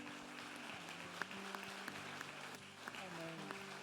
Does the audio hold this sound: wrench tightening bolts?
no